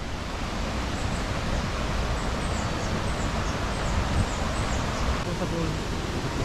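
Strong river current rushing steadily at a natural free-flowing spot in Dingalan, Aurora, a broad, constant wash of water noise with faint bird chirps above it.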